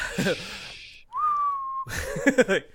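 A person whistles one sustained, gently rising tone in imitation of a bird, alone and clear, with conversational voices just before and after it.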